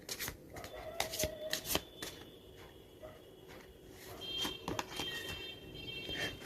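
Tarot cards shuffled by hand close up: quick riffling flutters and soft slaps come in uneven bursts, then a quieter, steady rustle of cards being handled.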